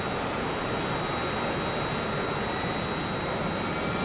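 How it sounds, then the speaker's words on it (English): A jet engine spools up in a DCS World combat flight sim aircraft, a steady loud broadband roar with a faint high whine running unbroken throughout, with no talk. "Start our engine."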